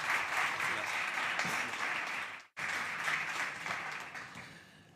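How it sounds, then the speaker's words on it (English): Conference audience at South Summit 2018 applauding a speaker taking the stage, dense continuous clapping from a large crowd with a brief cut midway, then resuming. "Big applause, people."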